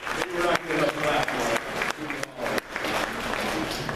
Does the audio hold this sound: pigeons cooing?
no